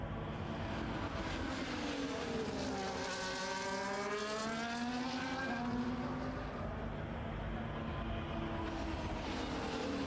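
Race cars corner at a Belgian circuit, their engine notes sweeping down through the turn and climbing again as they accelerate away. The whining, layered engine roar is loud and continuous throughout, with no talking.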